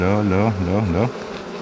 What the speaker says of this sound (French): Donc là, on voit qu'il y a des abeilles là, il y en a là.